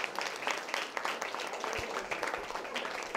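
An audience applauds children at a village gathering in a Buddhist vihara in Temba, Amravati, a continuous dense clapping from a crowd of moderate size heard at some distance.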